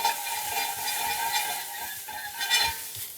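Fish and stir-fry ingredients sautéing in a pan, a steady close hiss of sizzling oil with scraping stirring motions and brief louder crackles, heard alone without talk.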